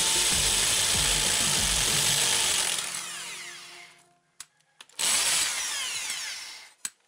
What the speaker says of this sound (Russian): приступаем крошить фундамент вот такой вот специальной обычной дрелью